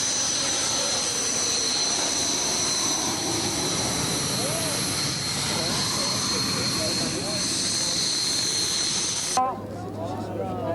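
SEPECAT Jaguar jets at a 1993 air show at Cambrai air base 103 in France, with a loud sustained roar and whine that ends abruptly near the close, while a commentator talks over it.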